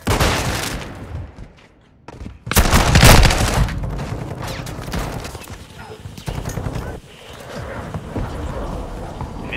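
Grenade blasts and bursts of gunfire in Call of Duty Modern Warfare 2 multiplayer on a hotel map, a loud explosion near the start, then a heavy blast and a steady clatter of shots with scattered callouts.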